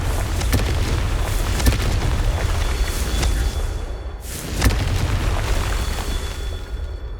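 Confringo blasting-spell explosions in the Hogwarts Legacy video game: a sustained roar of rumbling blasts with two sharper bursts standing out, loud and continuous throughout.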